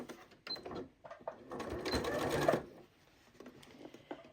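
A Janome 8200 QCP sewing machine stitching fabric for a bowl cozy: a few soft clicks, then one steady, close whirring run of about a second before it stops.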